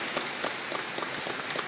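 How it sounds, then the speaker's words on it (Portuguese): Audience applause at a formal award ceremony for a state medal in Rio de Janeiro, a steady wash of many hands clapping with scattered sharper claps, moderately loud and continuous without speech. "Quero pedir a todos, por favor, uma salva de palmas ao Dr. José Carlos Tortman."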